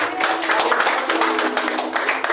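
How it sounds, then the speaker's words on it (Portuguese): A church congregation claps together during a family worship service, a dense burst of quick, loud, overlapping handclaps that continues steadily throughout. "Uma salva de palmas ao Senhor."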